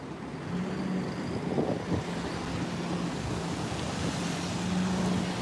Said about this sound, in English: Apologies for the traffic noise